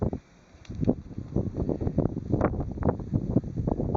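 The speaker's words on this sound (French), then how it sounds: "Aujourd'hui, on a un vent de sud, ce qui est un petit peu rare en Bretagne." Steady gusts of a south wind buffet the microphone outdoors in Brittany, a low rumbling rush that rises and falls without any voices.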